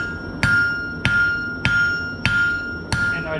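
Five evenly spaced, ringing hammer blows land on a forged steel leaf worked at the corner edge of an anvil, each strike sharp and bright with a metallic tone that hangs between hits.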